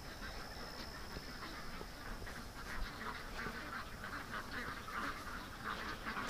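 Ducks quack outdoors at dusk on a homestead, a busy stream of calls at moderate distance over steady background noise, with no talk.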